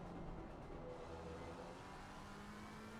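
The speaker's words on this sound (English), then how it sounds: "That Lexus engine just sounded so good." The engine of a Lexus race car in a racing video game drones steadily and quietly, a smooth sustained hum with faint revving tones. It stays constant throughout, low in level, and no one talks over it.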